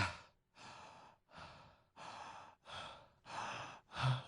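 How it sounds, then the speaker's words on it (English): A person breathing heavily into a microphone, seven long loud breaths in a slow, even rhythm, each a drawn-out huff separated by brief pauses, with no talk. "which is heavy breathing"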